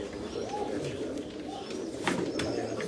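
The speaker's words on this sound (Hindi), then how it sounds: "हाँ, सलारा कबूतर।" Salara pigeons on a rooftop give soft, repeated throaty coos against a steady outdoor background, with faint voices nearby.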